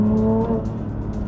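A Porsche GT3 engine revs under hard acceleration from inside the car, a loud, strong tone that climbs briefly and then drops away into a rougher, lower rumble.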